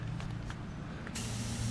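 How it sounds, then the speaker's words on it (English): An aerosol can of WD-40 penetrating liquid hisses as it is sprayed onto a broken wheel lug bolt, a steady close spray starting partway through and running to the end. "let's go ahead and spray some kind of WD, some kind of liquid thing in there"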